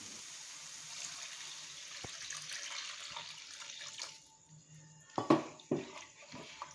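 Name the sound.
pouring water into pan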